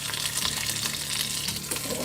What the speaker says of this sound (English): So we're just going to let that sear for,